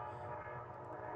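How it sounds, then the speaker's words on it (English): A passing train rumbles steadily and loudly, its horn sounding through the continuous broadband roar with no talking. "What the heck is that? Is that a train?"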